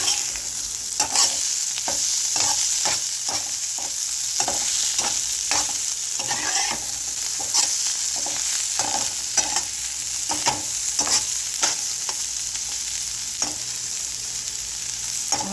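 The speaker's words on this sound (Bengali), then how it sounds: "ধনিয়া পাতা দিয়ে একটু নাড়াচাড়া দেব।" Fried pointed gourd with coriander leaves stirred in a pan, a steady close sizzle under a regular run of spatula scrapes and taps against the pan, no talk.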